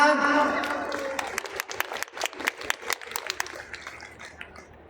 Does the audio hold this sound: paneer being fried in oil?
no